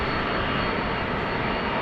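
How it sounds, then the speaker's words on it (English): Delta Airbus A330 jet engines at Amsterdam Schiphol Airport in wet, windy weather, a loud, steady broadband roar that holds constant throughout, close and unbroken. "Delta A330 on the move."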